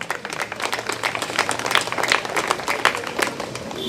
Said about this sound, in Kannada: ಆದ್ರೆ ಚಪ್ಪಾಳೆಯ ಶಬ್ದ ಅನ್ನುವಂಥದ್ದು ಕಡಿಮೆ ಸೇರಿದೆ